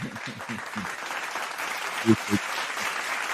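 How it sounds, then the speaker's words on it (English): Scattered audience hand claps with broadband crackle, including a couple of sharper, louder claps near the end, over a steady murmur of voices and low talk throughout. "Let's get them hand claps together"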